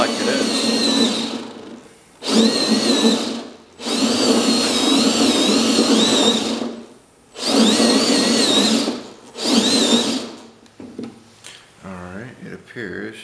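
Loud electric drill whirring in several bursts with short pauses between, motor pitch wavering; ends with a few quieter whines.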